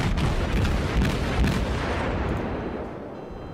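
Warship side guns fire in the naval video game World of Warships, a loud, dense run of heavy booming salvos that fades toward the end, with no talk.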